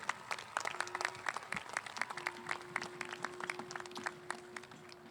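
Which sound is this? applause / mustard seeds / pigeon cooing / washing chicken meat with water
applause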